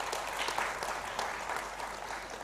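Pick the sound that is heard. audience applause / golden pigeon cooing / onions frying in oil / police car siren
audience applause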